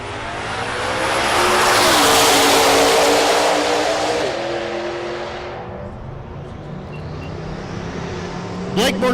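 2002 Pontiac Trans Am race car accelerating hard at a drag strip, loud engine roar climbing through gear shifts, then fading into the distance while a commentator talks.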